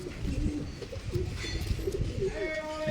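Fancy domestic pigeons coo up close, a few soft, throaty coos rising and falling over light background noise.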